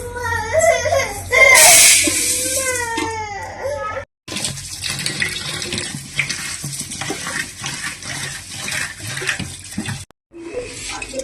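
Raw rice being washed in water in a home kitchen, with splashing and running water over several seconds, a brief loud burst early on, a short pause, then continued rinsing.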